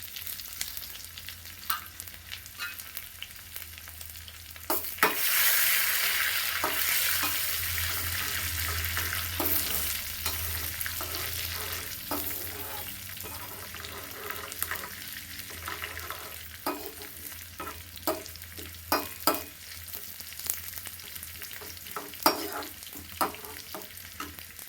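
Shallots sizzle and fry in hot oil with dried red chilies and curry leaves, a steady broad hiss that swells loudly around five seconds in, with scattered scraping stirs and clicks throughout.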